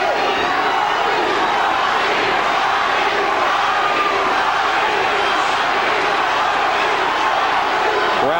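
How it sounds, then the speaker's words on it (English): Dense, continuous roar of a big boxing arena crowd cheering and urging on Thomas Hearns late in his fight with Iran Barkley, loud and sustained throughout without letup. "Crowd trying to urge on Tommy Hearns for one last moment here."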